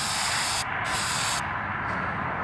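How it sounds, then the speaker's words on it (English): Bursts of hammered-finish spray paint on fender flares, a loud close hiss in several short blasts with brief gaps between them. "I'm actually gonna set this down for a second and spray the edges."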